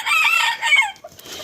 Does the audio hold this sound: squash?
no